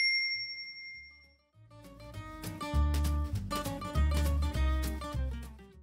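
A notification bell dings clearly at the start with a ringing tone that fades out. Rhythmic music with heavy bass beats then takes over at a moderate level.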